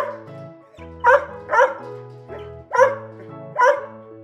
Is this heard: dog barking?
yes